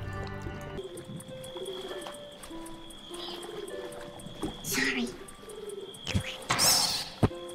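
Pigeon cooing from The Supper, soft repeated coos under ambient game music and tones, with a couple of sharper thuds and rustles later.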